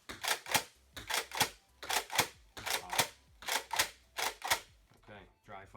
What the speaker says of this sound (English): and now I'll slam fire.